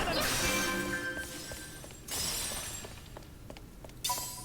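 Crystalline objects shatter in the Final Fantasy Type-0 video game, giving repeated bright crashing bursts over a dense, noisy game soundtrack, the breaks coming every couple of seconds.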